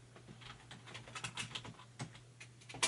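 Someone types a command on a computer keyboard, a quick run of light, close key clicks ending in a firmer final keystroke, in a quiet room.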